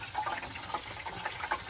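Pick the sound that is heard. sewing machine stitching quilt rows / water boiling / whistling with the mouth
water boiling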